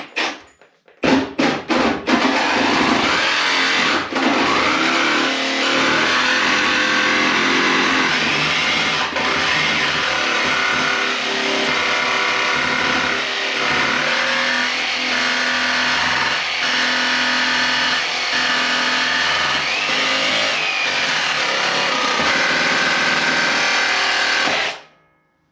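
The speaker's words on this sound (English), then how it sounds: "I'm going to use the jigsaw once again" A jigsaw cuts sheet metal patch panels for floor rust repair on a third-generation Camaro, starting with a few short bursts and then running loud and steady up close for about twenty seconds before stopping.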